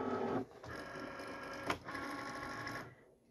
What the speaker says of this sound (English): I'm going to go ahead and load my mat into the cutting machine